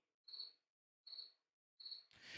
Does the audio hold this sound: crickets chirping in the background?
yes